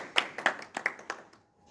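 A small group claps briefly at an online memorial event, a handful of scattered, fairly soft hand claps that thin out and stop after about a second and a half.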